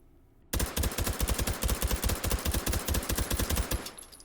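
A suppressed H&K MP5 submachine gun firing in the VR game H3VR, a single long rapid-fire burst of muffled, evenly spaced shots that starts abruptly and ends after about three seconds, with no one talking.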